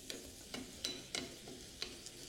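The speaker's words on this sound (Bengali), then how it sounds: "এখানে দিয়ে দিতে হবে 2 চা চামচ রসুন কুচি। আর সেটাকে আপনাদের ভেজে নিতে হবে" About two teaspoons of chopped garlic fry in oil in a pan until reddish. A quiet, steady sizzle runs throughout, broken by several sharp scrapes and clinks as it is stirred.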